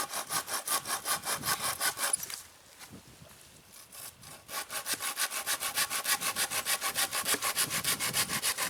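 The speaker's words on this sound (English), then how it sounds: "So now I'm going to cut this out and separate it from the rest of the trunk." A handsaw cuts a wooden fireboard from a tree trunk in the wilderness with rapid, rhythmic back-and-forth strokes. There is a brief pause before the sawing resumes at a steady pace, close and clear, with no talking.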